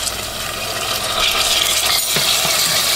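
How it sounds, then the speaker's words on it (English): Chopped onions sauteing in olive oil in a pot for a smoked salmon stew, giving a steady hissing sizzle throughout, close and moderately loud, with a brief clink of stirring near the end. "I'll go ahead and add the chopped onions. And I'll let that saute for 3 to 5 minutes."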